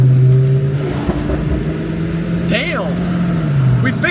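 A 2022 Lexus IS350 with catless headers revving in first gear, a loud steady exhaust drone that swells and eases, heard from inside the car with a voice talking over it.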